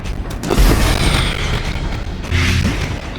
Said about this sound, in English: Play grenade